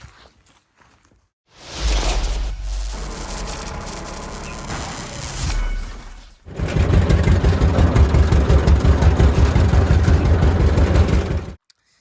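A tractor engine runs loud and close, first with a heavy low rumble, then dropping briefly before revving back up strongly as it pulls away to fetch hay; no speech over it.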